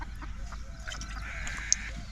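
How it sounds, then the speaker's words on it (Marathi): A hen clucks softly nearby in short repeated bursts over a low steady background hum, in a shepherd household setting. "कोंबडी कशी आली इथं"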